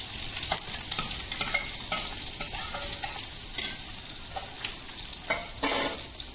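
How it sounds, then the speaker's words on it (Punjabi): Cumin seeds sizzle in hot oil with a steady bright crackle, broken by a few louder spatters and scrapes of stirring, close and continuous with no voices. "ਤੇਲ ਜੀ ਗਰਮ ਹੋ ਗਿਆ ਤਾਂ ਆਪਾਂ ਇੱਕ ਚਮਚ ਜੀਰਾ ਪਾਵਾਂਗੇ"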